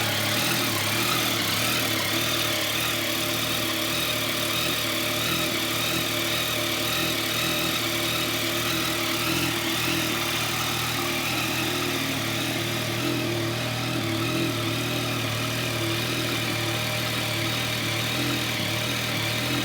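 A 2016 Yamaha XSR900 motorcycle idles in neutral with a steady, even engine burble that stays close and constant throughout, heard alone without talk.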